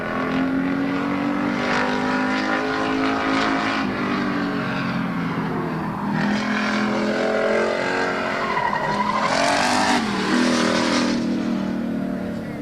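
Race car number 32, driven by Keith Anderson at Midvale Speedway, roars loudly as it gets sideways toward the checkered flag, with engine revving and tire squeal rising and falling throughout.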